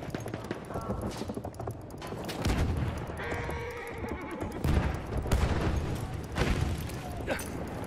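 A horse whinnies amid Battlefield 1 video game combat, a loud neigh rising over gunfire bursts, booms and hoofbeats, with a voice talking in the background.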